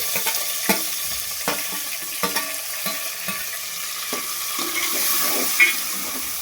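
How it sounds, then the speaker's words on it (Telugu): Curry leaves and tomatoes fry in a pan with a steady broadband sizzle, punctuated by repeated scrapes and taps of a stirring spoon against the pan throughout. "కరివేపాకు, టమాటాలు కూడా వేసి ఫ్రై చేసుకోవాలండి."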